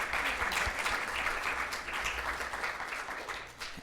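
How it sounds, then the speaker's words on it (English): Audience applause at a trauma grand rounds event, steady clapping from a crowd that stays loud for several seconds and then gradually fades. "If we could just give them for our audience a bit of a round of applause."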